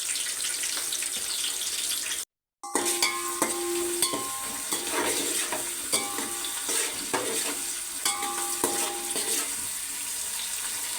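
Onions fry and are stirred in a pot with whole spices (cinnamon, caraway, cloves, cardamom) for chicken dum biryani, giving a steady close sizzle with scraping stir strokes, one brief dropout, and no talk.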